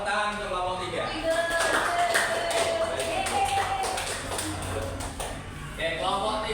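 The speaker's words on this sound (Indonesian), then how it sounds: "Tepuk tangan untuk kelompok 3." A classroom group claps for the third group, a steady patter of many hands lasting several seconds at moderate volume, with a voice speaking over it.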